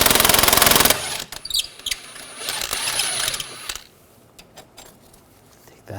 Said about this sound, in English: Using a 15mm socket, we're going to take this bolt out